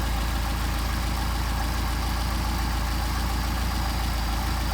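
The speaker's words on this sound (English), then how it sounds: "screw it in until the engine stumbles, back it out till the engine stumbles, get a midpoint" A Mercedes 190SL engine fitted with Solex carburetors idles continuously while the carburetors are adjusted, giving a steady, close, even rumble with a regular pulsing beat and no talking.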